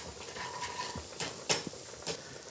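Bread fries gently in olive oil in a pan over lowered heat, a soft low sizzle with occasional light utensil taps and stirring clicks.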